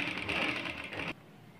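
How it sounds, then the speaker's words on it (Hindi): A sewing machine stitches along the edge of stiff buckram for a kurti collar, a steady close mechanical whir that runs for about a second before stopping abruptly. "देखिए इस तरह से आपको बुकरम के किनारे किनारे सिलाई लगा लेनी है।"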